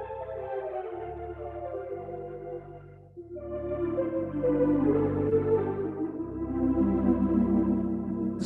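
A Lowrey home organ on its Diapason 1 voice, imitating a big pipe organ, plays sustained chords over a held bass line, steady and fairly loud with a swell in the middle and no talking.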